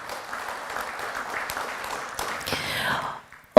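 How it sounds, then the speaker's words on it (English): Audience at an ILO Pacific launch event applauds in a dense, moderate burst that swells briefly and then fades out. "Ladies and gentlemen, a big round of applause."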